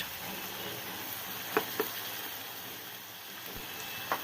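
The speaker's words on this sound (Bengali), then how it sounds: "আদা ও রসুন বাটা দুই তিন মিনিট ভেজে নেবেন" Ginger and garlic paste sizzles steadily in a pan with onion, a soft continuous crackle broken by a few sharp clicks of stirring.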